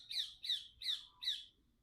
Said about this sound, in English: that bird agrees as well